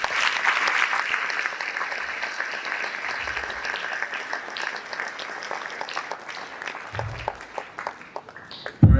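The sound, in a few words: round of applause for student leaders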